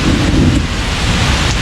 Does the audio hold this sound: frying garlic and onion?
no